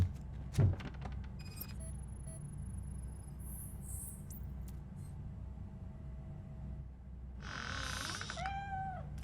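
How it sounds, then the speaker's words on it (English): A cat in the Robocop Rogue City video game lets out a single faint meow near the end, preceded by a low rumbling ambience, chirping insects and scattered distant bleeps. "The cat is fine."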